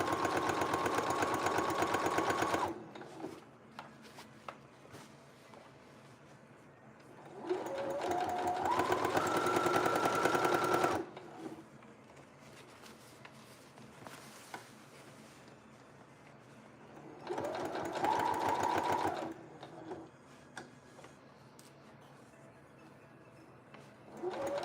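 A sewing machine runs late at night in three sustained bursts of steady whirring stitching, with quiet pauses between them, close and fairly loud.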